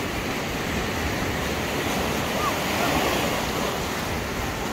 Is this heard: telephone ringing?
no